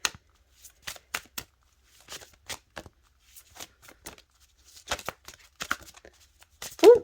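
Cards from a tarot-style deck are handled and shuffled up close, giving a series of crisp, brief riffling and sliding flicks in an uneven rhythm, quiet and alone.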